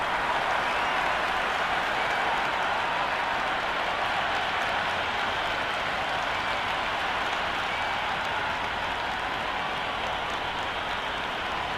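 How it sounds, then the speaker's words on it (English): Dense, steady crowd roar with continuous applause filling a cricket stadium before play begins, loud and unbroken throughout with no clear pauses. "already the crowd making a hell of a racket"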